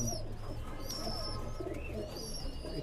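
Oman Teddy pigeons coo in a busy pigeon market, low rolling calls overlapping amid a dense chatter of other birds and background noise.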